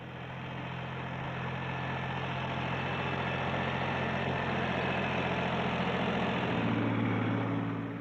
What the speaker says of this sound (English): The rugged 26 horsepower diesel engine of the 1710